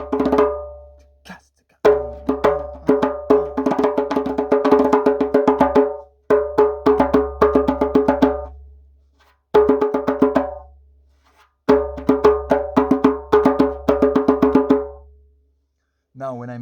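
Drum solo played against another instrument, with dense, rapid strikes grouped into bursts and short pauses between phrases, loud and up close over a sustained low tone.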